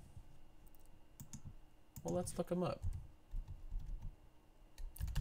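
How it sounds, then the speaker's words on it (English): Clicks and taps on a computer keyboard come in quick uneven bursts, fairly close, with someone speaking briefly partway through. "this keyboard never takes the first thing that I type"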